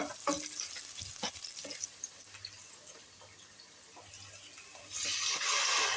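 Spice paste for fish curry frying in a pan with a scrape of stirring, a soft sizzle underneath occasional clinks, swelling into louder hissing sizzle near the end.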